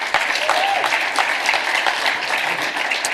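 Audience applause at a talk, steady dense clapping from a crowd filling the space, loud and sustained with faint voices underneath.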